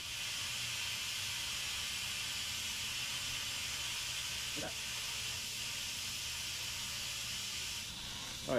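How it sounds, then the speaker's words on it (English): An Instant Pot pressure cooker vents steam from its release valve while red beans and rice cook, giving a loud, steady, broad hiss that runs unbroken throughout, with a couple of faint clicks. "Hit the release valve."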